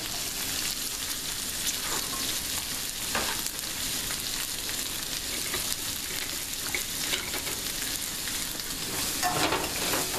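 Finely chopped leftover vegetables, onion among them, sizzle and fry in butter in a pan, a steady close hiss running the whole time with occasional crackles and stirring scrapes, no voices.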